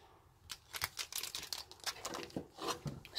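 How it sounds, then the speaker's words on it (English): Pokémon TCG Team Up booster packs being cut open with scissors, heard as quiet, close crinkling of foil wrappers with sharp rustling snips in quick bursts. "So now we're going to cut these team up packs."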